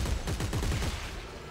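Rapid bursts of gunfire blast an enemy in the sci-fi video game Dead Space 3: a loud, dense volley of overlapping shots with sharp repeating cracks, heard alone with no talk.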